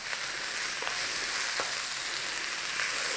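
Butter and garlic sizzle steadily in a pan as the base for a creamy potato and pea soup, a continuous close frying hiss with a few soft stirring clicks and no voices.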